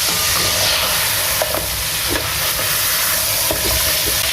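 Mutton pieces fry in a pot with garlic, ginger and onion, producing a loud, continuous hissing sizzle with faint scraping stirs throughout.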